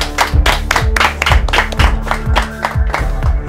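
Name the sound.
round of applause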